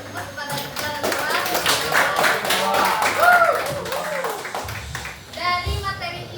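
A class applauding in a classroom, a spread of clapping and tapping that runs under a teacher's voice and children's chatter throughout.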